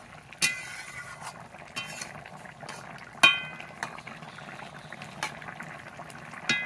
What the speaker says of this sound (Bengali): এবার কিছু সময় ফুটিয়ে নামিয়ে দেবো।